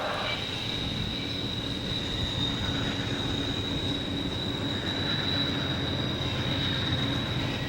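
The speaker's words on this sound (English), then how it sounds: "The Amtrak train still moves more slowly than usual and gives an extra whistle before entering the tunnel." An Amtrak Pennsylvanian train rolls past near the Allegheny Tunnel in the Allegheny Mountains, moving slowly, a steady loud roar of wheels on rails with a thin high squeal running throughout.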